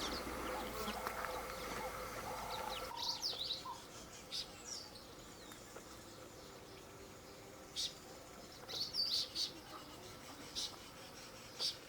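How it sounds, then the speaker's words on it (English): Birds chirp and sing on a South African farm, short bright calls popping up intermittently over a steady outdoor hiss, some bursts fairly close, with faint insect buzz in the background. "And you can hear some birds there as well."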